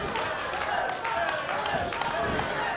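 Wrestling crowd at a Crossfire Wrestling event clapping and cheering steadily, a loud continuous roar of claps and voices with pulsing swells throughout.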